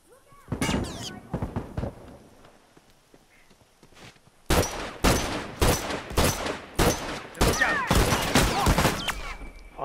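Gunfire in The Last of Us Remastered: a short cluster of shots, a pause, then dense repeated bursts of loud, sharp reports continuing to the end.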